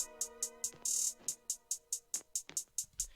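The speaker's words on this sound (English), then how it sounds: "made hi-hats that sort of stutter and gate down there" Crisp trap hi-hats made in FL Studio 20 tick in a steady pattern, with brief stuttering rolls and a gated burst, over faint tonal notes underneath.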